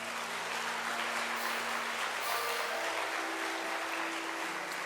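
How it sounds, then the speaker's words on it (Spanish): A church congregation applauds, a dense, steady wash of many hands clapping that fills the room at an even level with faint music tones beneath. "Denle un aplauso a Jesús por esto."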